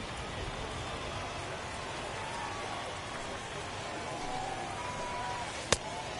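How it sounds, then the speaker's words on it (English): Steady heavy rain hisses over the ballpark in MLB The Show 21, a continuous even wash filling the whole stretch, with a single sharp crack standing out near the end. "Well, that rain is really coming down right now."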